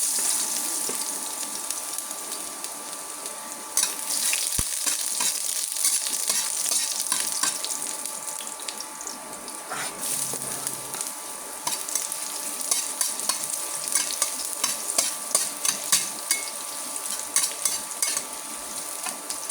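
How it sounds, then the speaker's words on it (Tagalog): Garlic and ginger sizzle steadily in a hot pan, with a spatula scraping and stirring now and then, close and moderately loud with no voices. "Igisa ko na ang bawang at luya."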